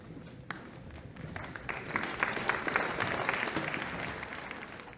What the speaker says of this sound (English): Thank you so much for applause.